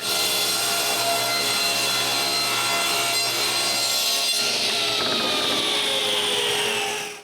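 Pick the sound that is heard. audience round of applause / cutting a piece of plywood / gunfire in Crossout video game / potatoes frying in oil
cutting a piece of plywood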